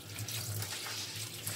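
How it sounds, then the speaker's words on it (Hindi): Tap water runs steadily into a kitchen sink while rice is rinsed under it for lemon rice, a close, continuous splashing hiss with no talk. "इसको रनिंग वाटर से साफ कर लेंगे, वॉश कर लेंगे इसको"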